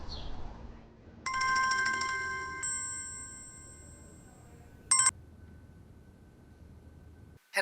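An incoming call ringtone on a phone plays a steady electronic melody of sustained tones for a few seconds, followed by a brief bright chime, with no talking over it.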